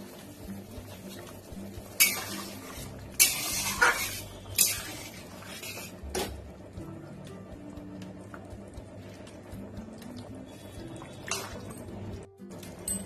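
A pan lid lifted off a simmering pot of paneer and potato curry, with metallic clinks and scrapes of cookware, a few sharp clatters early on, then quieter stirring and dripping sounds at close range.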